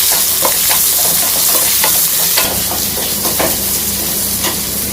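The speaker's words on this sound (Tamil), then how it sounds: "பூண்டு ஒரு 5 பல்லு போட்டுக்கணும்." Garlic cloves frying in a hot pan for a spicy tomato garlic chutney give a loud, steady sizzle with scattered crackles and stirring scrapes throughout.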